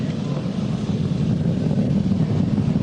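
A SpaceX Falcon 9 rocket with Merlin 1D engines throttling back up to full power after max Q, heard as a steady, dense roar that stays loud and unbroken throughout, with no voices.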